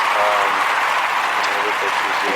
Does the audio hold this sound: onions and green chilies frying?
no